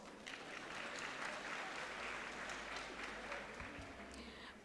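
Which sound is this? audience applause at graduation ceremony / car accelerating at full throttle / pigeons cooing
audience applause at graduation ceremony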